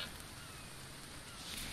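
Steady, soft rain hisses evenly in The Infected video game, a faint continuous wash of falling drops with no voices over it.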